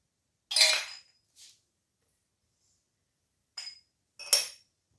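Glass jars clink together while being filled with homemade strawberry jam. There are four sharp, bright clinks: two near the start and a close pair near the end, separated by silence.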